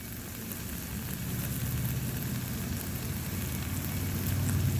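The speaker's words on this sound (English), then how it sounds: "That bacon just sizzling away." Bacon sizzles steadily on a Blackstone griddle, a dense, even crackling hiss that holds throughout at moderate loudness.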